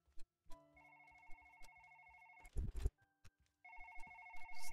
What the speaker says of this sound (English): Just listen for the ringing.